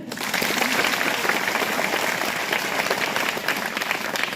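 At a primary school event welcoming Ashtam Oraon, captain of India's under-17 women's team, a crowd breaks into continuous, fairly loud applause that holds steady for several seconds.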